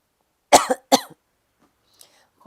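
Two quick, close coughs, then near silence with a faint click.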